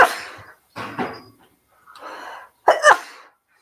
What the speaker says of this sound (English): See, sneezing hurts.